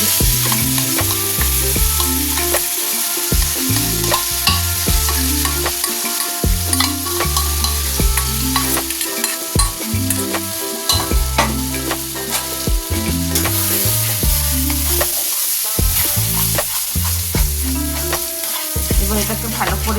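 Dhoka, Bengali lentil cakes, frying in hot oil in a wok, with a loud, continuous sizzle and crackle running the whole time and repeated scraping and stirring strokes in an uneven rhythm.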